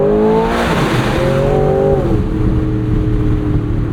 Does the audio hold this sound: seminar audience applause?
no